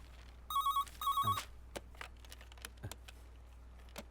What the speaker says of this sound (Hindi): सर फोन बज रहा है।